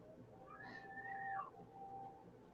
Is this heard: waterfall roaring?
no